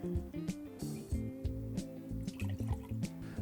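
Fresh passion fruit juice pours into a cocktail shaker in a quiet, uneven trickle with small drips and splashes, close and soft, with no voices.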